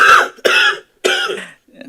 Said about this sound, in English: Take care of that cough